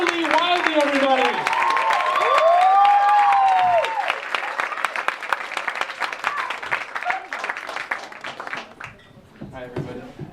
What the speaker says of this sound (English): let's give him a round of applause for Charile Wildey, everybody